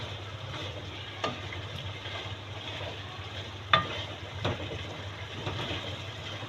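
Drumstick pods frying in a pan for a curry, a low steady sizzle with a few sharp clicks and scrapes from stirring, quiet and close.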